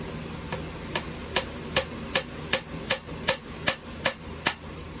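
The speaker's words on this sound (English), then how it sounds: "Take the hammer, smack it in." A hammer drives a wooden dowel into place with about a dozen sharp, evenly spaced strikes, each a bright close crack repeating at a quick regular pace without any talking.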